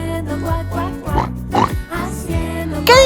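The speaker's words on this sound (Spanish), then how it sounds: "¿Saben qué animal hace oink, oink? A ver... ¡Claro! ¡Es el chancho!" A cartoonish pig oinks and grunts in a children's sing-along, several squealy, bouncy grunts set over steady bright music, ending with a sharper squeal.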